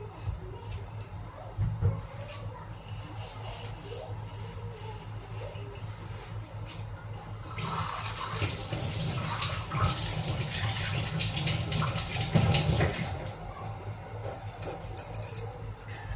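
A glass is washed under a running kitchen tap, with water splashing steadily for several seconds in the middle and quieter handling sounds before and after.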